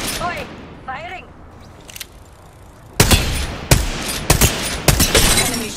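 Gunfire in the video game Apex Legends, with several loud, sharp bursts of shots over the last few seconds, coming after a stretch of player talk.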